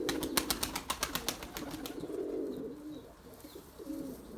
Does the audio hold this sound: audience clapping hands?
no